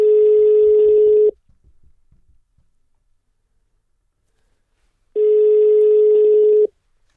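A telephone call goes through: two long, loud, steady ringback tones with a few seconds of near silence and faint soft clicks between them.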